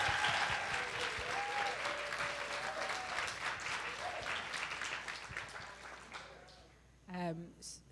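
A seated audience at a community talk gives a round of warm applause that fades gradually, with a short spoken voice at the close.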